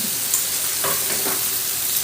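Salmon cooking gently in a pan over low heat, a steady soft sizzle with a couple of brief stirring or shifting sounds, no speech.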